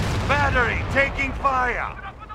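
Battlefield gunfire and explosions from Company of Heroes roll under frequent shouted voice lines, the booms and shots mostly buried beneath the talk.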